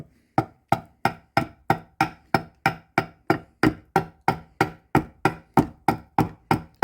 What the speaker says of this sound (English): So you're going to take your adze, tilt it, and try to get a shearing cut.